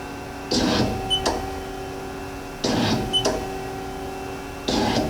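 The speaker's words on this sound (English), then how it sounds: "We'll index the turret." A Haas SL-40LB heavy-duty big-bore CNC lathe turret indexes: three short mechanical whirring bursts with a clunk at the end of each, evenly spaced over a steady machine hum, no voices.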